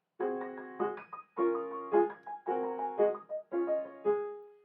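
Piano two-note slurs from Chopin's Étude Op. 10 No. 5 repeat four times, each pair sustained with pedal and blending together before a short break, played alone.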